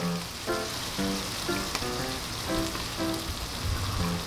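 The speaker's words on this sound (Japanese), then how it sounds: "卵を真ん中にね、フライパンに当たらないように真ん中に入れます。" Beef carbonara sizzles softly in a frying pan on very low heat as egg is added, giving a steady crackling fry with a few light taps and clinks over it, near and even throughout.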